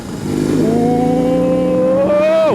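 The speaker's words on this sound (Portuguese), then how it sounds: "Só para curtir esse roncão do Boxer aqui." A BMW R18 motorcycle's boxer engine rumbles loudly up close, holding a steady deep idle before revving up in one smooth rising sweep and dropping back, with no talk over it.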